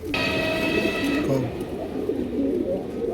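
Pigeons coo softly in a loft of colored pigeons, a low murmuring run of calls going on throughout, with a bright tonal hum at the start.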